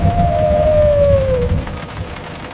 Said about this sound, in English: The rain lashed down just like this, but the thunder was louder.